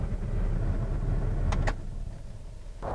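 A car rumbles close by at low idle, rolling up a home driveway, steady engine drone for about a second and a half, then a couple of brief higher whirs like a power window before the engine note drops away.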